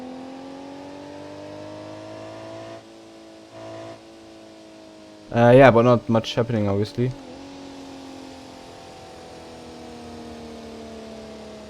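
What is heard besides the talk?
transmission gear whine of a car in BeamNG.drive video game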